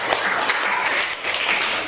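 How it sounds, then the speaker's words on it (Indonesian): Steady clapping from a secondary-school class during a lesson, a short even wash of many hands close by. "Tepuk tangan dulu."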